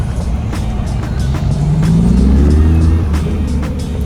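At an outdoor car meet, a Lamborghini Gallardo engine revs and rises in pitch against a constant crowd murmur, sounding loud and fairly close.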